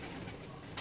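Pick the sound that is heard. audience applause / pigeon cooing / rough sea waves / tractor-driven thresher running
pigeon cooing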